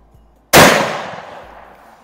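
A 1943 Lee Enfield No4 Mk1 .303 British bolt-action military rifle firing a handloaded round at a range: one sharp, loud report that rings out and fades over more than a second.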